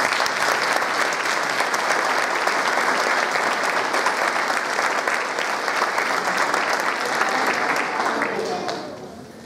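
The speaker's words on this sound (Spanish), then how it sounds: "un aplauso por favor" An audience at the Puntallana music band's Christmas concert applauds, a dense, loud, continuous clapping that holds steady for several seconds before tapering off at the end.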